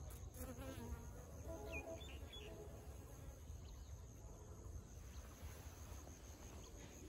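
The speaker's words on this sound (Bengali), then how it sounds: "তো এই যে একটা মৌমাছি" A small bee buzzes among flowering coriander in a field, a faint thin drone coming and going close by over soft outdoor background noise.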